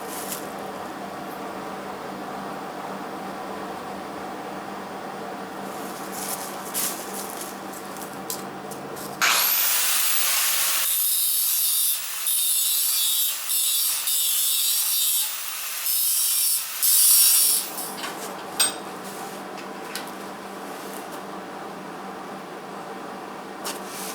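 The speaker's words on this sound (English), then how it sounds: "I'm cutting a little small piece to go right here across the front of this, underneath the frame" A power cutter slices a small piece of metal to fit under the front frame of an F100 truck during a front clip swap, a harsh, loud, steady cut of about nine seconds rising over a constant shop background.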